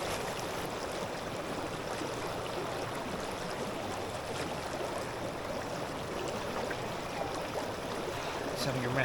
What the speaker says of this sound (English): Always nice having a rest by the river.